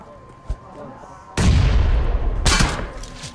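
Loud explosion booms in a shooting video game: one heavy blast with a long rumbling tail, then a second sharp burst, after a faint earlier pop.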